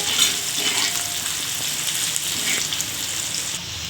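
Garlic and onion frying in a pan, a steady bright sizzle that runs the whole time with light stirring scrapes, close up and with no talking.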